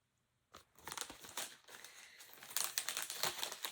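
Crinkly paper rustling as a sticky paper envelope is handled and pulled open, a steady run of close crackles and tearing sounds that grows denser toward the end, with no talking.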